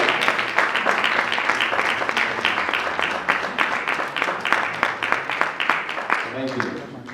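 Loud, dense applause fills a pastors association meeting at a Christian ministry gathering, sharp individual claps standing out in a continuous roar that keeps going without a break and tapers slightly near the end.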